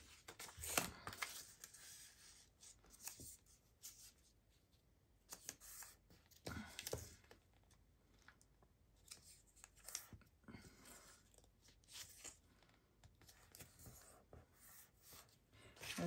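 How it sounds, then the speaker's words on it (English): Copy paper torn off along its edges by hand while folding an accordion trifold, heard as a series of short scratchy rips and rustles spread across the stretch, fairly faint and close. "I'm just going to tear off the edges except for the top"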